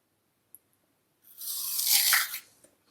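A single crisp, loud crunch of teeth biting into an apple, close up and lasting about a second, with near silence before and after.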